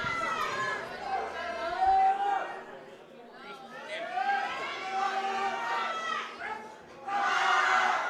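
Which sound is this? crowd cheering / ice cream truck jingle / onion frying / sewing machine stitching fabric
crowd cheering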